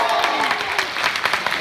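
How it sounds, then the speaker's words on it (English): A crowd gives a round of applause: dense, fairly loud clapping that runs steadily for the whole short stretch, with a few voices mingled in. "Give me a round of applause"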